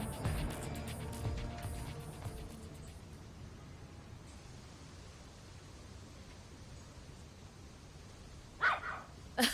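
A dog barks in a few short, close bursts near the end, after a stretch of steady background noise with faint earlier sounds.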